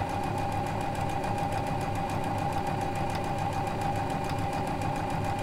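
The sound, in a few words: Janome sewing machine stitching fabric with lap-seam foot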